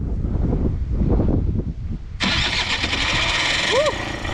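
A small Suzuki LT quad ATV engine cranks with a rough rumbling sputter, then catches and roars to a steady high idle; a brief whistly tone rises near the end.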